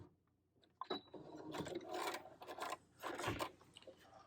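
Sewing machine stitching back tacks on short stays, a quick run of close mechanical whirring bursts with brief pauses between them, moderately loud with no talk.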